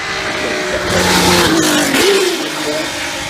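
A 1979 championship-winning racing car with a flat-12 boxer engine mounted in the back, running at a speed festival hill climb, its loud engine note rising and swelling as it passes close by, with a commentator talking over it.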